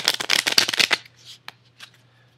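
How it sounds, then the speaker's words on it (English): A deck of cards being riffled rapidly for about a second, a dense flurry of snaps, followed by a few soft taps and quiet handling sounds. "So then I'm just going to shuffle them real quick."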